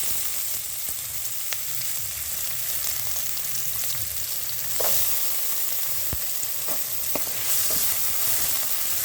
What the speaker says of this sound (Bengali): তেল দিয়ে এবার সবজিগুলোকে আমি ভেজে নেব।